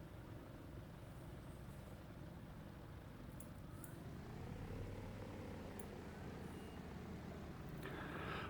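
In a flight simulator game, a Douglas DC-3 airplane heads out for departure, its engines a faint, steady low drone that swells slightly toward the end.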